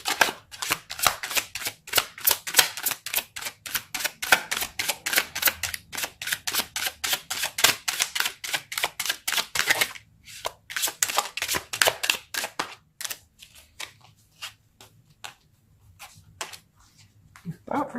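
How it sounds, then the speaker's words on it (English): Tarot cards being pulled from a deck in a long run of quick, rhythmic papery flicks, close and steady, thinning into sparse clicks toward the end. "Let's pull some more cards."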